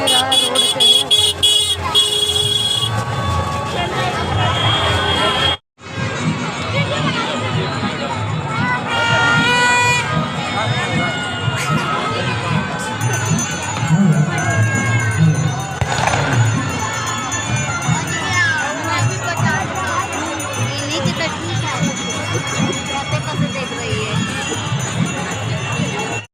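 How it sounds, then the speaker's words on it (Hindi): Busy village fair crowd churns with overlapping voices, children shouting and occasional vehicle horns, a loud, constant outdoor bustle with people talking nearby and a brief cut in the sound early on. "हम लोग मेले में हैं, देखिए इतनी भीड़ है"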